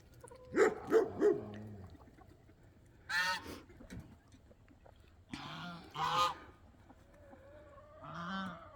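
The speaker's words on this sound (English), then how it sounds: "That's a bunch of birds right there." Several geese honk in loud, separate bursts, a quick cluster of calls followed by more scattered honks, with no talking.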